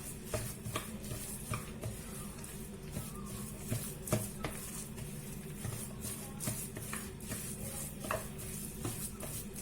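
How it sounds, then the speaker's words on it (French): Cheese being stirred into vegetables in a pan on the stove, with steady scraping and soft stirring noises over a faint continuous sizzle and occasional utensil taps against the pan. "je mélange"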